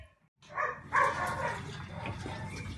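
Several dogs bark excitedly before mealtime at a kennel at day's end, a burst of overlapping yaps and barks at moderate distance after a short quiet start, with a faint voice underneath.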